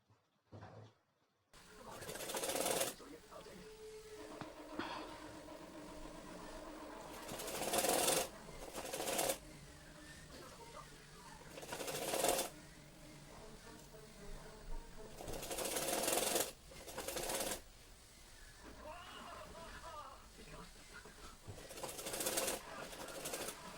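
A sewing machine stitches the sleeves of a gown in steady running bursts with short pauses between, close and moderately loud, while a person talks intermittently over it.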